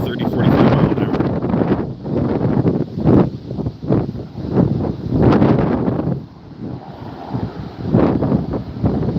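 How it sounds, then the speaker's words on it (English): Strong wind gusts roaring and buffeting the microphone close by at a rapidly growing wildfire threatening structures, surging in repeated loud bursts with short lulls, voices faintly mixed in at times. "The gusts have to be 30, 45 miles an hour."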